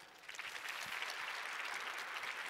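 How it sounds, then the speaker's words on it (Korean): Audience applause in a Korean forum hall as a speaker is welcomed onto the stage, a steady wash of clapping at moderate level throughout, with no voices over it. "그러면 다인님을 박수로 이 무대에 모시겠습니다"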